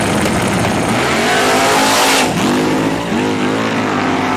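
Ford Mustang in a Florida street race, ending in a wreck after a wheelie: loud, close engine revving with rising and falling pitch sweeps and a brief dip in the roar before it climbs again.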